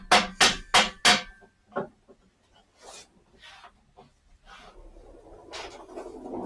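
A claw hammer strikes metal four times in quick succession, loud and close, during a V6 KLDE engine swap into a Mazda Protege5 wagon, followed by scattered softer clanks and shop noise.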